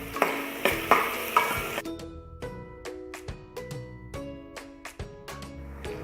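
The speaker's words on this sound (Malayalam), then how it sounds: "ഇതിലേക്ക് അല്പം ഇഞ്ചി വെളുത്തുള്ളി ചതച്ചത് ചേർക്കാം. ഒന്ന് വഴറ്റി കൊടുക്കാം." Crushed ginger and garlic sautéed in a pan for a coconut-milk fish curry: a dense sizzle at first, then repeated close spoon scrapes and clinks in an uneven rhythm over a softer frying hiss.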